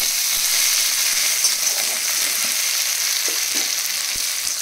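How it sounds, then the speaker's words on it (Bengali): Onion and tomato fry with black cumin in a pan for a fish curry, giving a dense, continuous sizzling hiss up close, steady throughout with faint stirring clicks and no voices. "কালো জিরে ফোড়ন দিয়ে পেঁয়াজ আর টমেটোটাকে একটুখানি ভেজে নিয়ে"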